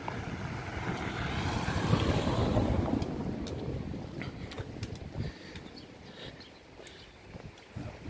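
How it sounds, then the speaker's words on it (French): Rushing water from a river flowing under a small Roman bridge, loudest early on as a broad wash blended with wind buffeting the microphone, then fading to quieter scattered ticks and rustles. "On passe au-dessus d'une rivière."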